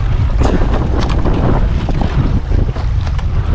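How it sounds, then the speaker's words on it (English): Strong crosswind roars and buffets the microphone steadily during a rowing race, with rushing water beneath, loud and continuous with no voices. "Hellish crosswind, boys. Hellish crosswind."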